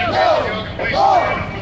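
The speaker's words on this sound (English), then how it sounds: "No more state-sanctioned violence is a chant from the crowd." Protest crowd at an Oakland grand jury demonstration in solidarity with Ferguson chanting in unison, two loud rhythmic shouted phrases rising and falling close by.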